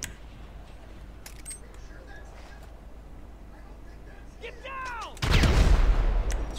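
A grenade explodes in the GTA 5 Online video game, a sudden loud broadband blast bursting in after several seconds of quieter game ambience and a rising whistle, its rumble sustained to the end.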